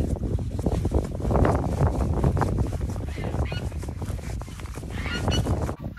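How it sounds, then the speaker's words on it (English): Geese honk loudly and repeatedly at close range on a farm, chasing after someone near a tractor, with steady wind noise buffeting the microphone throughout. "the geese are following me. They're chasing me and honking at me."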